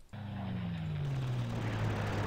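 A plane unit in the Panzer Corps strategy game makes a steady droning engine sound with a slowly falling pitch. It starts abruptly and stays loud and continuous throughout, with no talk over it.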